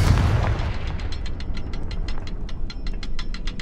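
A Confringo fire spell detonates in Hogwarts Legacy, opening with a loud booming blast that decays into a steady crackling rumble punctuated by rapid sizzling pops.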